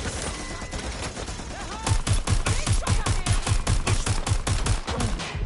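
Rapid automatic gunfire from a gun in the video game Watch Dogs Legion, a steady string of about fifteen evenly spaced loud shots starting after a quieter opening stretch, heard up close.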